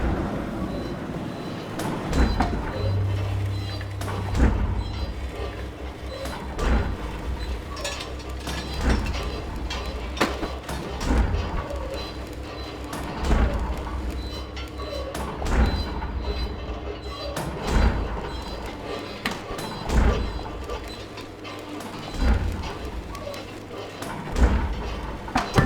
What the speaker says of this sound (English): Look! A train arriving at the station.